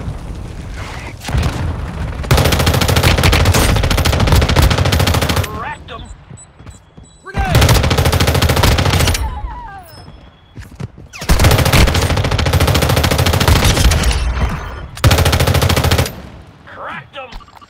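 Gunfire in the mobile shooter Warzone Mobile: loud sustained bursts of automatic fire and booms come in three long barrages separated by short lulls, close and dominant, with a voice briefly heard between them.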